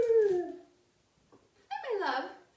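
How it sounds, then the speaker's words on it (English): Small pet dog whimpering and howling at a door during prenatal yoga: a drawn-out high whine sliding downward, a brief pause, then a second rising-and-falling howl, close and fairly loud. "I think my little dog is trying to get in."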